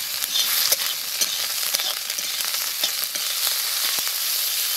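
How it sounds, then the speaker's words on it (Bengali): Garlic paste frying in a pan along with mustard for a dry pomfret fish curry, giving a loud continuous sizzle with frequent crackles and stirring scrapes, close by and free of speech. "রসুন বাটা দিয়ে দেবো"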